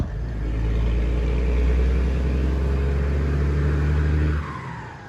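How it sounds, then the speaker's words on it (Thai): A Mitsubishi Fuso truck engine revving up close: a loud, deep rumbling roar that holds steady for several seconds, then drops off as the throttle is released. "ฟูโซเสียงโหดสุดแล้วนะ"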